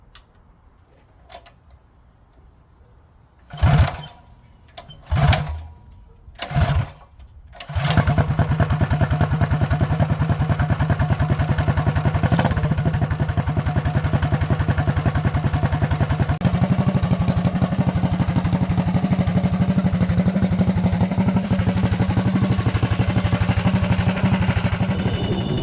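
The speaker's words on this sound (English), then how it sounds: "right now we're going to start it and break the engine in." A 212cc small engine on a break-in run: a few sharp pull-start attempts, then it catches and runs at a steady, close, clattering idle that continues to the end.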